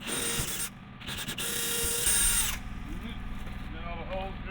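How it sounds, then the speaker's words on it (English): A power drill bores holes in pressure treated lumber for a lean-to, grinding loudly and up close in a continuous run that cuts out briefly, with handling noise and light rattling afterward. "Got all the holes drilled."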